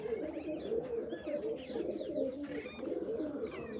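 Pigeons coo continuously in soft, low, throaty warbles, several birds overlapping close by with faint chirps above.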